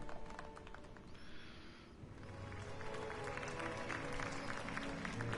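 Applause from a crowd of game characters in Mass Effect Andromeda, a steady patter of clapping that swells slightly and runs throughout, mixed with in-game ambience and music.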